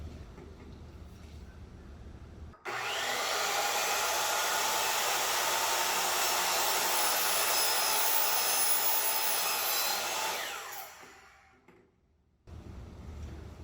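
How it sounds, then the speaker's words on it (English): A miter saw cuts through aluminum after the blade was sprayed with WD-40, giving one loud, sustained screaming cut of about eight seconds that winds down at the end, with quieter room noise before and after. "this is going to be my first time cutting aluminum with this miter saw"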